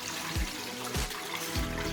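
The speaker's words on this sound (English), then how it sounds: "I'll drain off this water here" Water drains off raw chicken pieces that were washed with lemon, a continuous close splashing trickle with a few brief gurgles.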